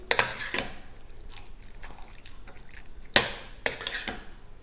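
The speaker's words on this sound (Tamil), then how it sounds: "இப்போ இதை வந்து ஒரு கரண்டி வச்சு நம்ம நல்லா இந்த மாதிரி மேஷ் பண்ணி விட்டுக்கலாம்." A ladle mashing cooked vegetables for street-style pav bhaji, with sharp clanks and scrapes against the pan in irregular bursts, some soft squelching in between and no speech.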